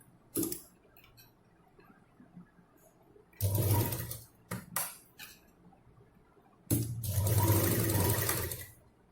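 Sewing machine stitching a fabric bow for decorating a purse or handbag, heard in two sustained whirring runs of a few seconds each, separated by brief clicks and quiet pauses, with no talking.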